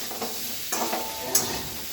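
Potatoes fry in a pan with a steady close sizzle, broken by a few scraping stirs of the spatula partway through, no voices present.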